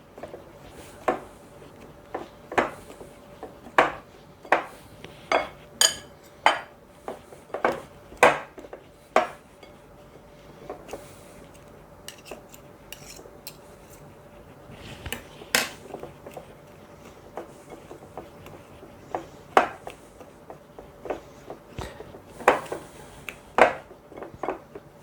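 Cornbread apple crisp crumble ingredients get worked in a bowl with a utensil, giving repeated sharp clinks and scrapes of metal on dish at an uneven rhythm. The sounds are close, alone, and without talk.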